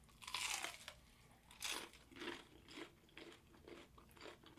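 Crispy delivered onion rings from a Grubhub box crunch between the teeth in a series of close, distinct bites and chews, about five or six crunches spaced roughly half a second apart with no talking.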